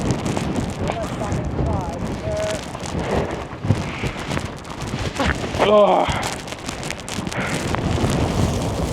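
Strong wind gusting across a wild campsite in the Brecon Beacons mountains, buffeting the microphone with heavy roaring rumble, while brief voices come through during it.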